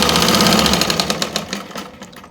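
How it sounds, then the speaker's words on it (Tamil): A sewing machine runs steadily, stitching a second seam over fabric piping, its fast needle rhythm loud and close before slowing and trailing off near the end. "ஸோ தையல் போட்ட தையல் மேலேயே இன்னொரு தையல் போடணும்"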